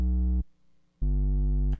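Two thick, buzzing future bass synth chords from a Serum preset sound in turn, a short stab then a longer held one, heavy with gritty low-end distortion and a brief gap between.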